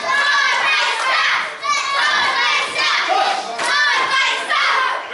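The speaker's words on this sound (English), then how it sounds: "The crowd just chanting time waster here as the Foxcatcher" A wrestling crowd chants in loud, rhythmic waves during a championship match, with many voices shouting together and the chant swelling and dipping.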